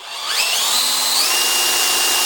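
Newman motor with parallel windings spinning up to about 2,000 RPM while lighting a bulb, giving a steady high whine that rises in pitch over the first second and then holds level and loud, alone without talk.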